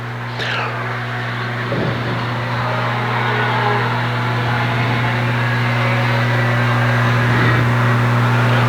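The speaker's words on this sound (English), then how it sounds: "Westgate and Bolger continue to race side by side for that 6th and 7th position" Sport Four race cars at Seekonk Speedway run side by side, a constant loud engine drone with steady tones that swells as cars come around, no talk over it.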